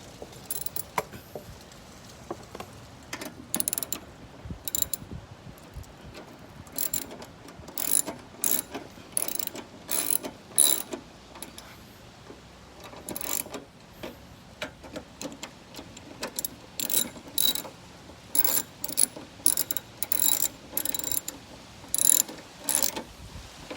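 A ratchet tightens a headlight on a 1996–1998 Honda Civic, giving short runs of rapid clicking that come in irregular bursts with brief pauses between them, close and fairly quiet against a still background.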